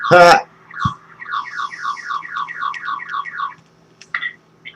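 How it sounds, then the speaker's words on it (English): A car alarm cycles through a rapid repeating chirping warble for a few seconds, following a loud burst at the start, with a low steady hum underneath; heard from a live stream. "The only thing you got is that car alarm."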